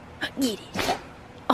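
A single sharp sneeze bursts out briefly between bits of nearby conversation, with another short vocal outburst at the end.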